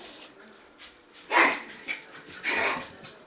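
A dog growls and lets out a few sharp barks in bursts, close and fairly loud, with quiet gaps between the outbursts.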